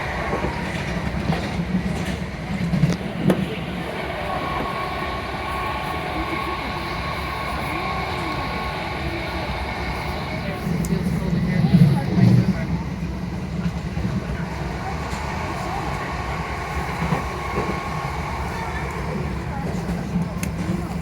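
A Southeastern passenger train runs on the rails between Charing Cross and Dartford via Bexleyheath, giving a steady rumbling roll with faint rhythmic clatter throughout and a brief louder swell near the middle.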